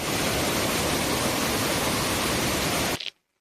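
A jungle waterfall in Jharkhand roars as a steady, dense rush of falling water, loud and close, holding constant before cutting off abruptly near the end.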